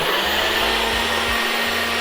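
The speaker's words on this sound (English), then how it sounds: "throw it down onto our blender, and I'm gonna run it on our very first setting" A Ninja BlendBoss blender runs steadily on its first automatic setting while blending a protein shake, a loud continuous motor whir with a low mechanical hum that holds level throughout, alone with no voices.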